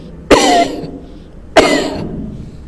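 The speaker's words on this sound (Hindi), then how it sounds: "और उसके बाद खांसना है।" Two sharp, close coughs about a second apart, each a loud burst with a short rasping tail, from someone bent forward in a prone breathing exercise.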